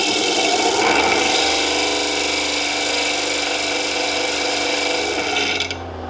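Disc grinder held flat with light pressure against a piece to smooth it level, a steady loud whining grind running nonstop before easing off at the very end.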